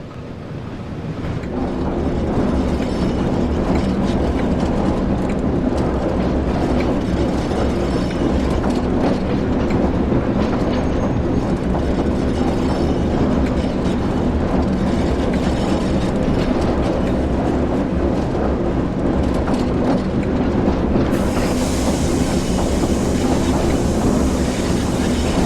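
A passenger locomotive on a Northern TransPennine route in the Train Sim World 4 video game, a steady loud rumble of running with rail noise, rising hiss near the end as brakes apply, no talk.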